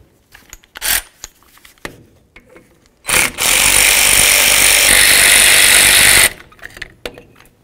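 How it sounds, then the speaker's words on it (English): Removing the 10 mm bolts holding the wheel cylinder to the brake backing plate on a 1992-99 GMC K1500, heard as a loud, steady three-second power-tool whir between a few sharp metallic clicks and clanks. "Now we're going to remove the bolts that hold the wheel cylinder to the backing plate using a 10 millimeter."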